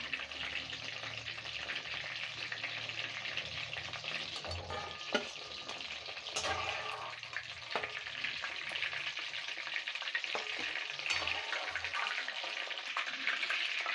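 Chicken 65 pieces frying in hot oil, made as a village-style home recipe, give a steady, dense sizzle with occasional stirring clinks and scrapes, loud and continuous throughout with no talking.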